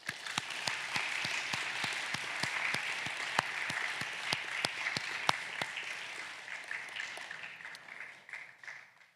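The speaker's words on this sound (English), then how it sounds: "please join me once again in applauding all of our new Honor Society members" An audience at a National Honor Society induction ceremony at a Christian academy chapel claps for new members. Sharp, distinct claps lead into steady sustained applause that fades out toward the end, with no speech over it.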